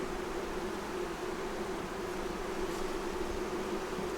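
Honey bees from a five-frame hive that has lost its queen buzz steadily around the open box, a soft continuous hum close by with no voices.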